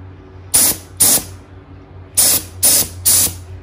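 Spray paint hisses onto a Porsche Boxster 986 wheel in five short, sharp bursts, two then three, loud and close with quiet gaps between.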